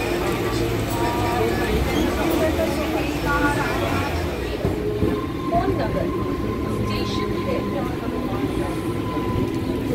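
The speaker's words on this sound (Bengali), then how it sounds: "অবশেষে ট্রেন আসলো লেট করে, ভালো জায়গায় পেয়ে গেলাম বসার" A train rumbles steadily nearby with rattling carriages and a faint squeal, loud and continuous throughout.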